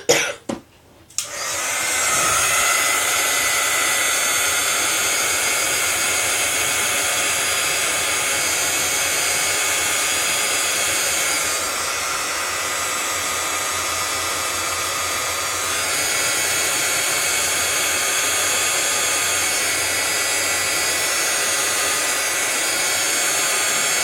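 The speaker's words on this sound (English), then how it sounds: "Okay, I'm going to dry this." A hair dryer blows steadily on a craft project, a loud continuous whooshing roar that starts after a brief click and keeps going, dipping slightly in pitch partway through.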